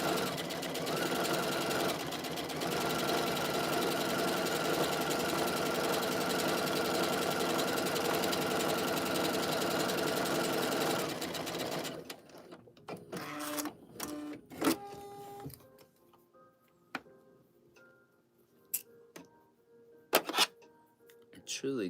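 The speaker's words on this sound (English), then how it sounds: "I'm using my Burnett B79, but you can use anything, any serger." A Burnett B79 serger stitches fabric in a fast, steady mechanical whir for about eleven seconds, then stops, leaving scattered handling clicks and thumps.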